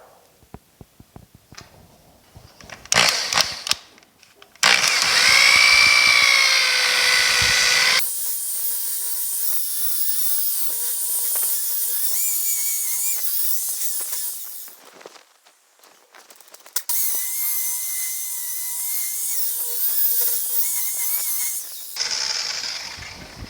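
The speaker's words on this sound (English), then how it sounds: "So let's get this polished." Rotary polisher buffing the bed of a 1950 Chevy truck, a loud steady machine whine that runs in long stretches, stopping briefly and restarting, with some handling clatter at the start.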